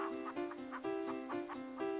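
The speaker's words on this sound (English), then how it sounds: "Chicken, shut up." A chicken in the video game King's Quest III Redux clucks in a quick repeated rhythm, steady and fairly loud over a continuous tonal background.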